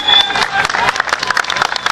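Audience applauding rally drivers from Finland and their Ford Focus RS WRC 09 at the Rally Acropolis 2009 event at Casino Loutraki, with loud, dense, sustained clapping from a crowd and a voice speaking over it.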